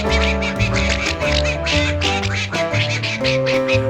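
Ducks at a duck pond quack loudly and repeatedly, with overlapping nasal calls in a quick, uneven rhythm close by.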